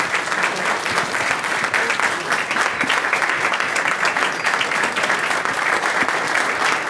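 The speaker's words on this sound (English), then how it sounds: "please give her a round of applause." Audience applause at a city council meeting in Portsmouth, Virginia: sustained, dense clapping from a roomful of people, steady and fairly loud throughout.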